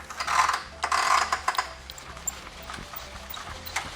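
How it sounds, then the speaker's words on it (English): A hand crank winds out the awning on a Sprinter van with quick bursts of ratcheting clicks, close by. The clicks come loudest early on and then thin into fainter, sparser turns. "you can crank this out as far as you want"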